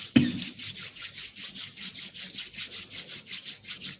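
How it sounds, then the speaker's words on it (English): Two palms rub briskly against each other, a steady close-up swishing friction repeated in a quick regular rhythm, with no talk. "Rub your hands against each other."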